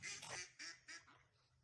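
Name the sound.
ducks quacking at a pond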